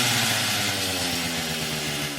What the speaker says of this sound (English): Chainsaw engine revs.